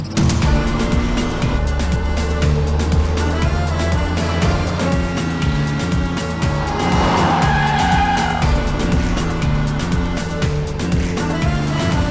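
A car driving fast, engine roaring loudly and continuously with a sharp tire screech as it skids to a stop midway, close and dense throughout.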